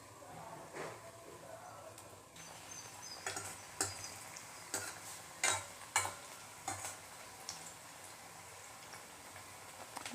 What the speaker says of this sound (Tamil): இப்போ ஒவ்வொரு பீஸாக போட்டு நம்ம பொரிச்சு எடுத்துக்கலாம்